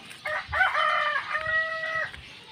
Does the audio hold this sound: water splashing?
no